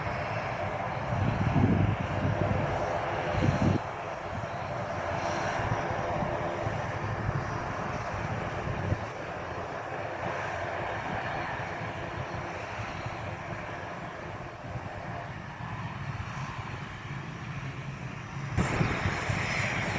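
A large airplane at Riga's airport produces a steady, broad engine roar that holds for the whole stretch, with brief louder surges near the start and the end.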